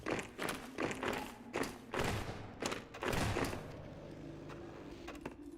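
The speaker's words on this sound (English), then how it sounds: "That is a shotgun." Shotgun blasts in Half-Life 2 ring out as several close, heavy thuds in an uneven rhythm before fading into quieter background ambience.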